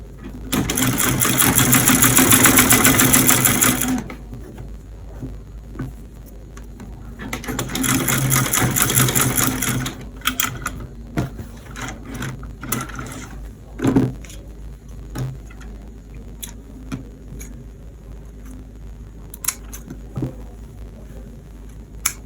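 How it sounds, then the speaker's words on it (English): A sewing machine stitches a pocket onto a pair of shorts in two loud, steady runs of a few seconds each, followed by quieter clicks and handling noises as the fabric is adjusted. "So you go ahead and stitch on the pocket."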